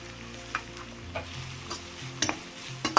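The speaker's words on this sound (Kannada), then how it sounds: "ಎಣ್ಣೆ ಕಾದ್ಮೇಲೆ ಜಿಂಜರ್ ಹಾಕೊಳ್ಳೋಣ." Ginger sizzling and frying in hot oil for a white sauce pasta, a steady crackle broken by a few louder stirring scrapes, close and with no talking.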